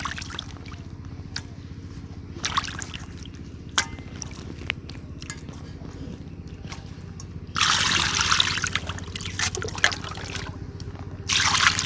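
Ritha fish rinsed in water at an outdoor home kitchen: continuous trickling and splashing, with louder bursts of pouring water in the latter part, no speech.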